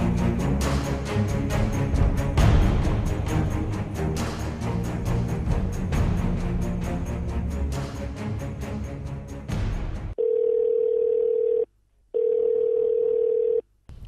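Telephone dial tone heard while placing a call from Montreal, a loud steady tone with a brief gap, following a stretch of dense music.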